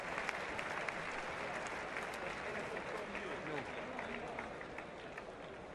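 Boxing arena crowd applauding and cheering on their feet after a fight between Callum Smith and Christopher Rebrasse, a dense, steady roar of clapping and voices lasting throughout.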